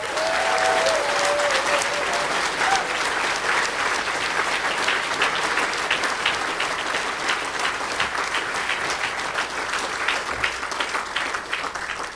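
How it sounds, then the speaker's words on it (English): Standing gala audience in Omaha giving a long, loud round of applause, dense continuous clapping that holds steady throughout, with a faint tone briefly audible at the start. "please stand on your feet and give Mr. Yanni a big Omaha round of applause"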